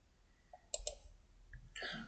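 Several sharp computer mouse clicks, a close pair of quick taps followed by a few lighter clicks, heard alone against a quiet room background.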